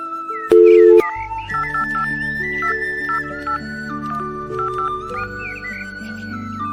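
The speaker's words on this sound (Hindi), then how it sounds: "इतनी सुबह सुबह किसका फोन आ रहा है?" A telephone rings with an incoming call early in the morning, a loud melodic electronic ringtone with a short burst at the start followed by a steady repeating tune, with no one speaking over it.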